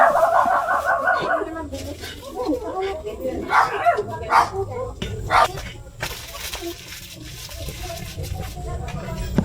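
A puppy barks in short yips and whines near a home in the Philippines, intermittent bursts among people talking and chickens clucking nearby.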